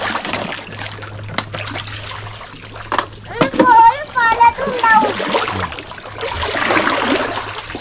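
Water in a small stream splashes and trickles while people wade and feel for fish by hand. Scattered splashes run under frequent nearby talk, including a voice, and a fuller rush of water comes near the end.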